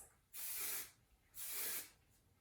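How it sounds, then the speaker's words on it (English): Hair styling product is sprayed from a can in two short, close hissing bursts separated by a brief pause, in an otherwise quiet room. "But I'll just kind of spray on the products."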